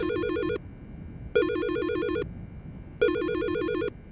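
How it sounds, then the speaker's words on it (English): A phone ringtone in the video game Silent Hill Shattered Memories, a loud electronic warbling trill that rings three times with short gaps between rings. "Your phone? My phone. Oh yes, terrible ringtone"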